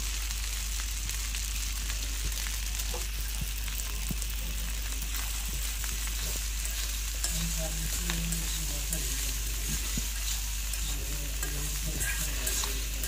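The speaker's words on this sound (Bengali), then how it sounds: "পাস্তা দিয়ে এখন নাড়াচাড়া করে ভালো করে রান্না করে নেবে।" Pasta being stirred and cooked in a pan gives a steady, loud frying sizzle with scraping stir sounds throughout, and no voices.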